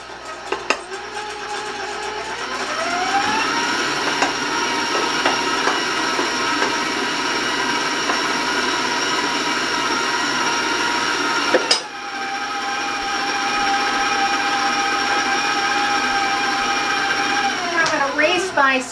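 Electric mixer beating chocolate popover batter, a loud steady whine that climbs in pitch as the speed rises, briefly cuts out, then runs again before winding down, with someone talking over it.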